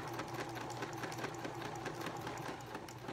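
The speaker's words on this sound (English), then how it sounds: "we're just going to sew right on our traced" A sewing machine stitching fabric along a traced line for a primitive doll body, running with a steady, rapid mechanical chatter, close and continuous with no talk.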